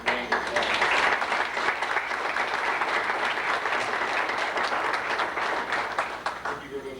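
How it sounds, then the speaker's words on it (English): A seated audience gives sustained applause for returning missionaries, a steady mass of clapping that stays even for several seconds before tapering slightly at the end. "I personally like to give them a round of applause"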